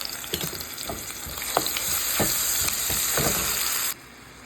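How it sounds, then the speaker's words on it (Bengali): Zucchini, potato and carrot frying in oil with onion, ginger, garlic, chili, turmeric and cumin, giving a steady close sizzle with a few stirring scrapes and taps before it cuts off. "এখন সবজি ভাজি করতেছি।"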